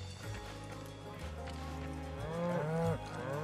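A cow moos in Final Fantasy VII Rebirth, a drawn-out bellow that rises and bends near the end, over game background music and faint hoof-like steps.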